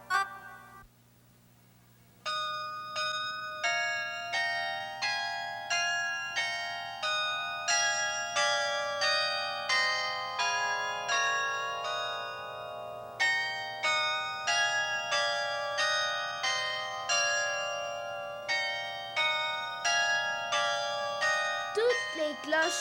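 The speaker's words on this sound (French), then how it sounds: "Toutes les cloches du clocher, je les entends carillonner." Church bells in a bell tower chime a melody, with struck, ringing notes in a steady rhythm that overlap and decay through most of the passage.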